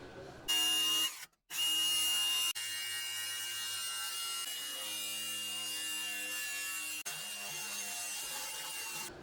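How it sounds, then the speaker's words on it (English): New angle grinder fitted with a cutoff wheel scoring bend lines into a metal Jeep flat fender, a steady loud whining grind that runs almost continuously with brief cutoffs near the start. "I put a cutoff wheel in my new grinder, so I am going to get to use it after all"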